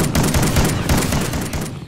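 Dense, continuous video game gunfire, including shotgun blasts, crackles through the whole stretch, a rapid chaotic volley of shots with no voices, loud and close throughout.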